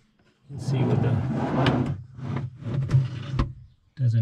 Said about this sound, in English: So this drawer here opens and closes as it should.